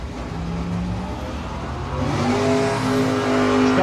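Drag race cars launching at a no-box 660 shootout, a Mercury and a Camaro, roar loud and close, engines revving up with rising harmonic pitch and a sustained accelerating drone.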